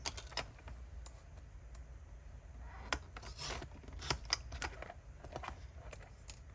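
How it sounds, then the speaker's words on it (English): Scissors snipping through paper during a vellum label and envelope craft session, a series of quiet, close, irregular cuts and rustles with no talking. "So let's cut this down."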